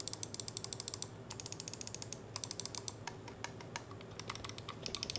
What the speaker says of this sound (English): this has optical switches, which are more reliable, last longer, react faster, and most importantly, sound better. Here is the sound test